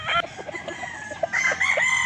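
A gamefowl rooster, an Allen Roundhead, crows loudly and close by, a drawn-out strained call with harmonic overtones, preceded by a few short clucks and faint scuffling.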